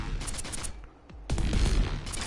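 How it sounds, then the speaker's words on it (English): Lucio's sonic weapon in Overwatch firing bursts of four blasts, rapid punchy shots in quick succession, pausing briefly before another volley resumes. "It shoots out 4 blasts at a time, no matter if you hold down the trigger or not."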